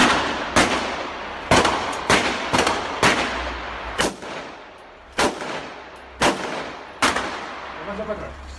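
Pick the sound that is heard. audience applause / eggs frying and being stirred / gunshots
gunshots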